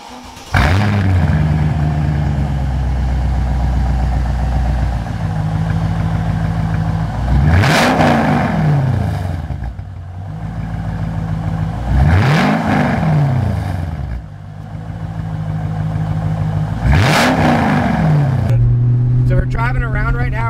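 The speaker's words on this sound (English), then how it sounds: "So we're driving around right now." Mercedes CLK55 AMG with a custom exhaust, driving at roughly 35 to 40 mph, revving loudly from inside the car in three or four deep rising surges with steady engine drone between them.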